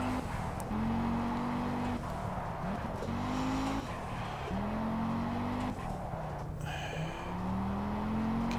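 A slow car lapping Monte Carlo in the racing game Project Cars, a steady engine drone with repeated rising gear-shift pitch sweeps and occasional tire squeal, continuous and fairly close, no talk.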